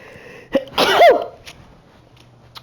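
A character sneezes in the video game Control: one loud, close sneeze with a sharp intake first and then an explosive burst, followed by a short quieter tail.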